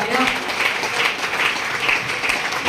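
Brief audience applause at an income-plan business seminar, a short burst of clapping with a loose pulsing rhythm and some voice mixed in.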